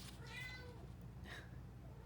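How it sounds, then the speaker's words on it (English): A cat meows twice, two short mid-pitched calls heard fairly close over a low steady background hum. "Meow."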